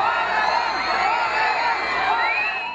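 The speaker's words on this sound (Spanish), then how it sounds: "López Obrador arribó al lugar entre gritos de apoyo" A dense crowd at a campaign rally in Mexico City's Zócalo roars and shouts in support of López Obrador's arrival, a loud, continuous wash of cheering voices with whoops rising through it.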